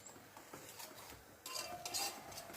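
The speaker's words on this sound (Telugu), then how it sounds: "ఒకసారి మళ్ళీ మంచిగా కలపాలి" A spoon stirs ginger chai in a metal pot, faint scraping and clinking against the sides, with a few quick louder clinks toward the end.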